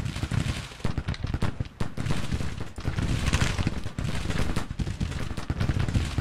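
Massed rifle volleys from Civil War infantry brigades in a real-time battle, a dense continuous crackle of overlapping shots with sharper bursts standing out, rolling steadily throughout without any voices.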